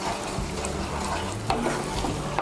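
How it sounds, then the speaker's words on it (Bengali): Pointed gourd paste being stirred into hot oil gives a close, steady frying sizzle with soft spoon scrapes, no speech. "পটল বাটাটাকে তেলের সঙ্গে ভালো করে মিশিয়ে নেব।"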